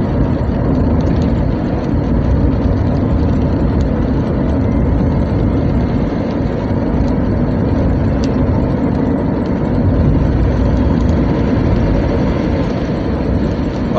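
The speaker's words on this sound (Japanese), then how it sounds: "この室内にエンジンがあるようなもんですからね、そりゃこんな音が鳴って当然だと思いますけど" Steady, loud low engine drone from a Chevrolet Astro van, heard from inside the cabin while driving on a test run after an intake manifold gasket replacement, continuous and unbroken throughout.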